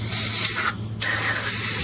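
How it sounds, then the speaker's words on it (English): Aerosol spray hissing steadily onto the underside of a 2004-2008 Mazda RX-8 after a gear oil change, loud and close, with one short pause mid-burst before the spray resumes. "and then spray her down."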